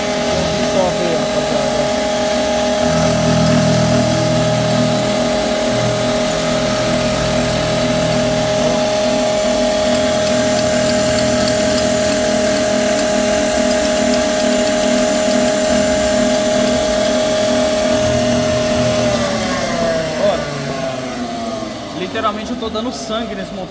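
A milling machine cutting a motorcycle engine casing for a Titan 150, holding a steady mechanical whine and hum for about twenty seconds before winding down near the end, with people talking over it.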